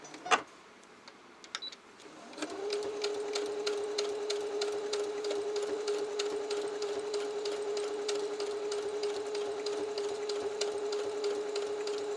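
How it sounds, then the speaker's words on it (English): A sewing machine starts up after a couple of handling clicks and stitches steadily through leather for a model horse Australian stock saddle, giving a fast, even rhythmic whir-and-tap at close range with no speech. "we're going to sew along this line, just the outside line"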